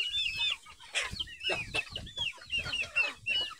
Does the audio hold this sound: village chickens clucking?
yes